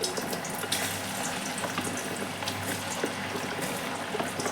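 Taro (arbi) pieces bubbling in hot oil in a home kitchen, a soft continuous fizz with scattered small pops at moderate distance, no voices heard.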